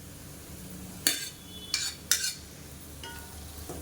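Cooked basmati rice being stirred into a spiced mixture in a pan for a lunch box dish, heard as a few brief scraping, clinking strokes of a spoon against the pan with quiet gaps between.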